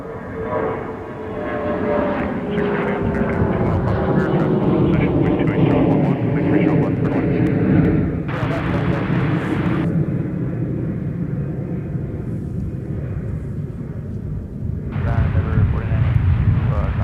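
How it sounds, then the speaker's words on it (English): A CRJ regional jet taking off at Minneapolis–St. Paul airport on a windy day, its loud engine roar rising and sustained throughout, with radio chatter and a voice talking over it. "This CRJ now rotating and up into the air"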